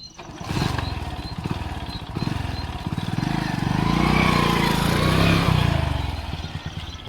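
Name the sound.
motorcycle arriving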